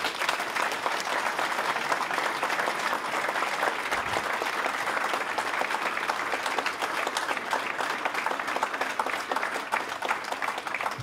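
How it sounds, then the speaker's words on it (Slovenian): Audience at the opening of a new secondary school building in Ravne applauds in a dense, steady roar of many hands, fairly distant and uniform, lasting the whole stretch without pause. "En aplavz, prosim."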